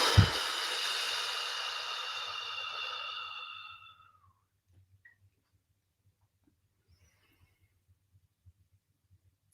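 A long, steady exhale of breath during a guided meditation, close and soft, fading out after a few seconds into near silence.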